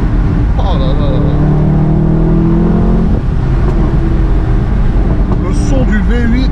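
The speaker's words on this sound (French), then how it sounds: "Le son du V8." A Mercedes-AMG V8 engine revving on the move, a loud, steady droning growl with rising and falling pitch sweeps and a brief dip midway, close and continuous.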